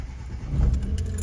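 A Mercedes-Benz Sprinter van's engine starts with a brief low rumble that swells after a faint jingle of keys, close and fairly loud over roughly a second.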